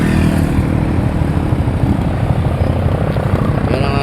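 A Suzuki Gixxer 250 motorcycle with its stock exhaust idles after a cold start, giving a steady, loud, continuous low rumble that stays close and unbroken throughout, with no talking.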